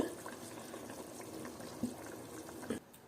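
Water in a pot for seeraga samba mutton keema biryani, freshly filled with already-boiling water, bubbling with a steady soft broadband churn and a couple of brief louder gurgles near the end, close by and alone.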